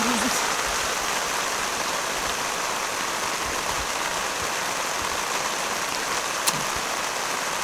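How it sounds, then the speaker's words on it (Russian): Heavy, gusty rain pours down in the taiga of the Polar Urals, a steady, dense hiss of rainfall that holds loud and unbroken throughout. "Порывами льет так, что сейчас опять река выйдет из берегов."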